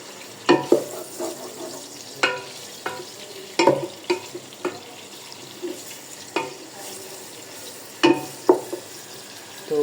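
Onions browning in ghee in a home kitchen pan while aloo gobi is cooked, a steady close sizzle broken by repeated stirring scrapes and clatters.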